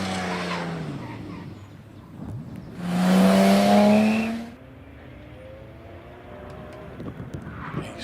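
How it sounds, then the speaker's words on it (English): Porsche 911 SC RS race car powering up the Harewood hillclimb course, its engine note rising and falling with a loud, closer surge passing mid-clip before fading back to a steady distant drone. "Currently got Nguyen Wadsworth powering his way up to the top of the hill in the 911 SCRS."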